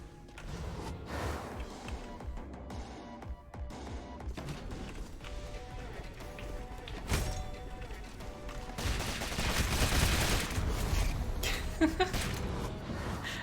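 Gunfire from a cast gun ability in the video game Rogue Legacy 2, a dense run of overlapping shots with heavier blasts near the end, mixed with game music and effects at moderate level.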